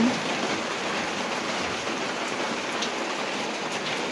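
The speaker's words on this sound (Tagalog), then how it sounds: "Umuulan na naman dito sa amin." Steady rain pours down during a typhoon, a dense even hiss of drops hitting surfaces with no letup.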